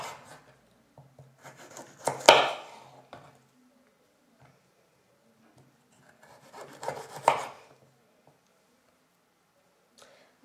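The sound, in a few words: knife cutting a large piece of carrot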